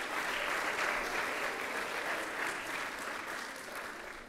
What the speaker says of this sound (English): can I get a round of applause for all the PAs like Mr. Nash, Mr. Reyes, and Mr. Holland